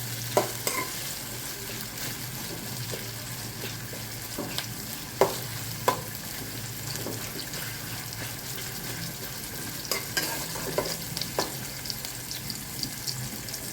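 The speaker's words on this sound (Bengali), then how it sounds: "পেঁয়াজটা এখনও পুরো ভাজা হয়নি" Onion frying in a pan for a chicken curry made with ground spice paste and raw turmeric, a steady sizzle running throughout with a few sharp clinks of stirring.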